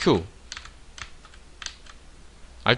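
Computer keys pressed repeatedly while trying an Alt and Q shortcut in 3ds Max, giving a handful of separate, sharp clicks spread over a few seconds, with a louder burst at the start and again at the end.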